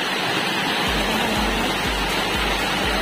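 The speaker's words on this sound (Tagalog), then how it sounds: "ang bilis lang makasahod at malakas yung agos ng tubig" Strong, steady rush of water pouring from a spring spout on an island, a dense continuous splashing roar with a few low thumps, close and loud with no talking.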